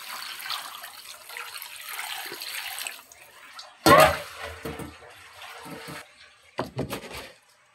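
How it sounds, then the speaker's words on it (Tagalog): Broth pours into a pot of pork spare-rib sinigang in a brief loud splashing burst, followed by softer trickling and a few later splashes against quiet kitchen background. "maglagay na tayo ng sabaw"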